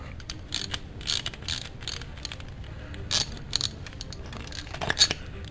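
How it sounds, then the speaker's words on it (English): Ratchet fitted with a 1/2 inch socket loosening a bolt on a lawn mower: a series of short metallic clicking bursts in irregular groups, close and moderately loud, with no talk. "So you basically take a ratchet, 1/2 inch socket on your ratchet, swift turn,"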